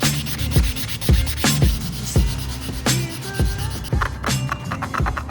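Sandpaper rubbed by hand against a 3D printed part in a school workshop, making close, steady back-and-forth scraping strokes in a quick, even rhythm with no talking.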